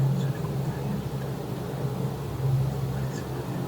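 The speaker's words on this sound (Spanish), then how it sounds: "Suena como una avioneta." A light aircraft passing over Luján, Argentina, heard as a steady low droning hum from a distance, fairly faint and even, with no sharp sounds over it.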